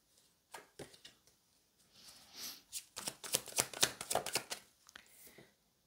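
Tarot cards shuffled and dealt out one by one in a quick series of crisp riffles and soft slaps, close and fairly quiet, with no voices.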